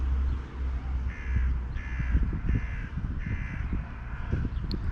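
Crows caw repeatedly near a shopping center, four or five harsh, evenly spaced calls ringing out clearly over a steady rumble of outdoor background noise.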